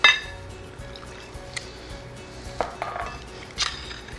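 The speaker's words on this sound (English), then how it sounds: "Pour in your water." Water poured into a big roasting pan holding seasoned pork for a honey-mustard roast, a faint trickle with a few light clinks of metal and glass, quiet and close with no talk.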